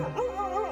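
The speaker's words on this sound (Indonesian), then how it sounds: "suara anjing menggonggong." A dog gives a short, tonal, whining bark, close and fairly loud, heard alone for a brief moment.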